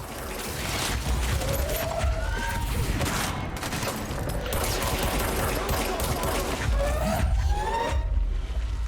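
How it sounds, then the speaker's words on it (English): Dense, continuous gunfire in the video game Control, with rapid overlapping shots and bursts that run steadily throughout, loud and close, mixed with mechanical clatter and whining ricochet-like tones. "there's bullets everywhere"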